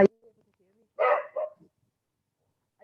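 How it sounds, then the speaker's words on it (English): A dog barks a few times indoors, one sharp bark at the start and a couple of louder barks a second later, fairly close, with quiet gaps between and a faint voice nearby. "You probably hear my dog barking."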